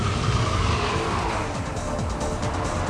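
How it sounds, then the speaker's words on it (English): A car understeers and washes out on a greasy roundabout, its engine and tyre scrub forming a steady loud roar with squealing, skidding noise throughout. "increase your speed and, loads of understeer, and the car just washes out"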